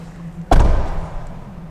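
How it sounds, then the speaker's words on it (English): A 2024 Ford Mustang Dark Horse door swings shut with one heavy, close slam, a deep thud that rings and rattles briefly before fading into low background hum. "I want you all to closely observe the door every time I close it"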